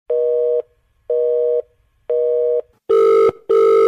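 A dropped phone call gives a repeating electronic disconnect tone, three evenly spaced steady beeps followed by two harsher, louder buzzing pulses, loud and alone.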